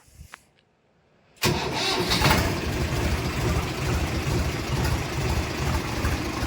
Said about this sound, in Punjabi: ਲਓ ਜੀ ਇੱਕ ਕੋਲਡ ਸਟਾਰਟ